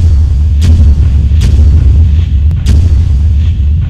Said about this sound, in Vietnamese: sẽ dùng khẩu súng tấn công này để kết liễu con quỷ đầu đen này